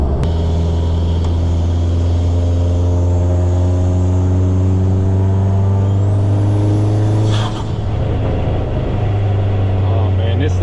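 A minivan with a swapped SRT4 engine pulls hard, its loud steady drone rising through the gears, with a brief break between shifts around the middle before the engine climbs again.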